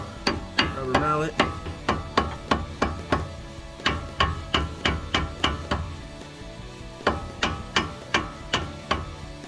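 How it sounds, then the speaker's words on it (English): Rubber mallet tapping a new Adams pinion yoke onto the front differential of a Jeep Wrangler JK, a steady series of sharp, close knocks in quick rhythmic runs with a short pause midway, no talking. "Tap it on with a rubber mallet."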